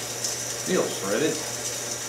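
Bolts being threaded by hand into a Porsche 944 oil pan, a close, quiet series of metallic ratcheting clicks and scrapes against a steady low hum.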